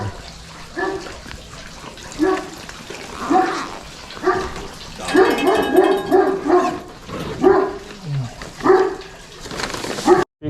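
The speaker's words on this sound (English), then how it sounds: "Got gigantic dog." A gigantic dog barks repeatedly behind a house door during a food delivery stop, with loud, deep barks coming in irregular bursts and a brief sound cut at the end.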